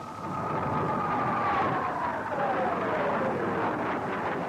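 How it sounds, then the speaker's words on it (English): A rocket-armed military jet streaks past at low level on a record speed run of 715 miles an hour, its loud roar sustained as the whining pitch slides steadily downward while it passes. "While timers clock, the jet screams along faster, faster, 715 miles an hour, a new world's record."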